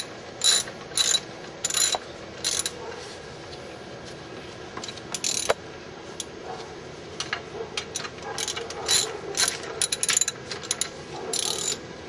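A hand ratchet removes the bracket bolts on a 2004 Kia Sorento, with quick bursts of close, crisp clicking separated by short pauses.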